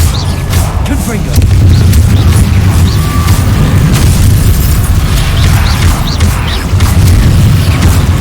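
Fiery blasting curse in the Hogwarts Legacy video game, heard as loud, dense booming explosions with crackling bursts that fill the scene, with talking over the fight.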